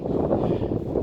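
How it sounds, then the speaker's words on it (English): Wind buffeting an unshielded microphone outdoors in the desert, a steady low rumbling roar that fills the whole second without a break. "you're probably getting a little bit of the sound of the wind involved here"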